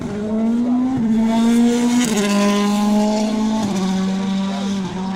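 A 2017 WRC rally car runs a stage at Cholmondeley Castle, its engine droning loudly and steadily with repeated gear shifts and rev changes, close and continuous.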